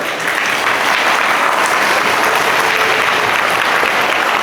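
An audience of students claps at an Independence Day school gathering. The applause is loud, dense and continuous for the whole stretch, with no voices rising above it.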